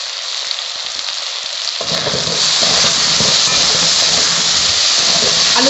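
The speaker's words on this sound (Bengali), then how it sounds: "আলুগুলো আমি একটু লাল লাল করে ভেজে নেব।" Potatoes fry in oil in a pan as the lid comes off, a steady dense hiss and crackle that swells louder and fuller partway through and then holds, with no talking.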